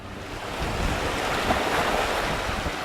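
Waves washing steadily onto a shoreline near Churchill on Hudson Bay, a loud continuous surf roar with wind buffeting the microphone, no voices.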